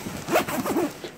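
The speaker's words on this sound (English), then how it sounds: "This thing is going to zip up" A zipper is pulled shut on a travel backpack held down with compression straps, giving a quick, close, rasping zip lasting about a second, with no talking.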